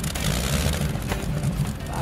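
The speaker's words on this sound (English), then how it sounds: "Mark started a radial engine to a nice rumble." Radial piston engine of a nearly 60-year-old aircraft rumbling steadily at idle close by, a dense low drone with constant loudness and no voices.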